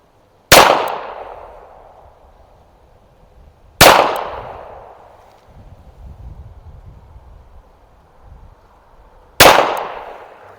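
Three loud, sharp reports from a 1922 Colt 1911 .45 ACP pistol at a shooting range, each ringing off briefly, spaced a few seconds apart with low background noise between.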